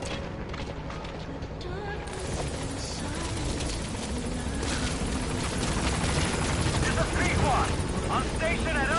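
Helicopter from the game Metal Gear Solid V: The Phantom Pain arriving at a landing zone, a steady loud rotor roar filling the scene with booming game effects and radio chatter over it.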